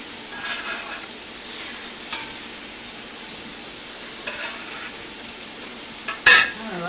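A second onion is tossed into a soup pot of browning onions for potato soup and fries with a steady, soft sizzle, broken by a few light stirring scrapes and a brief louder clatter near the end.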